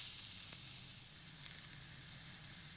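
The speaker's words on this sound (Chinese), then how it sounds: "四邊都辣一辣佢，等佢出下啲油。" Pork belly sears in a pan with a steady, dense sizzle of fat, crackling quietly and evenly throughout, heard alone without any voice.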